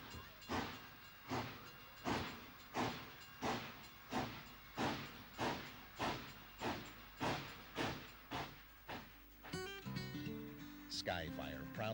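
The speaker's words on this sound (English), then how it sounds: "Engineer Rich Melvin cracked open the throttle, bringing to life over 400 tons of steam locomotive" A steam locomotive of over 400 tons starts off in the Appalachian coal fields. Loud, evenly spaced exhaust chuffs gradually quicken, then give way to a whistle and music, with narration over the sound.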